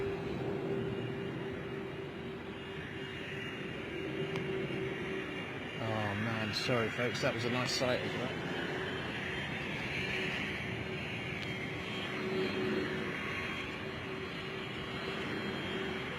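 A large jet airliner of the Boeing 777 or Airbus A350 type flies overhead near London City Airport, a steady, distant roar that lasts throughout while someone talks briefly in the middle.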